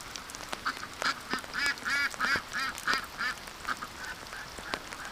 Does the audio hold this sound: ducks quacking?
yes